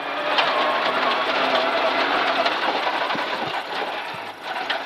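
A Renault Clio rally car engine under throttle on a gravel rally stage, heard from inside as a loud, steady, buzzing drone that holds for several seconds with slight rises and dips and no talking.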